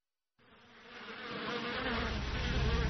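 Bees droning steadily inside a hive, a dense buzzing that starts abruptly and swells louder over a few seconds, with no voices.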